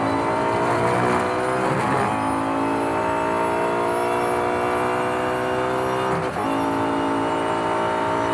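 A loud, high-revving Nissan JR Motorsports GT-R GT1 racing car engine in the video game Real Racing 3 drones continuously with a steady harmonic whine, briefly dipping in pitch as if shifting gears.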